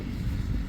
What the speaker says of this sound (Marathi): रिवर्स घेऊ लागले प्रताप सर.